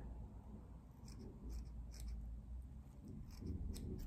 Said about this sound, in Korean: 이 V자를 다시 반대 모양이 되게 잘라줍니다.